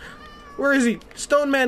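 Cat meows from the video game Minecraft, two rising-and-falling mews in quick succession, fairly loud and close, with a player talking excitedly around them.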